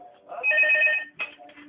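A telephone rings in a room, two electronic ringtone bursts with a short gap between them, fairly loud and close, with faint voices around it.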